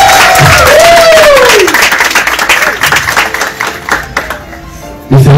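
Guests at a family gathering honouring a woman named Elsie clap loudly in a round of applause, with a sliding tone riding over the clapping before it thins out and cuts off abruptly.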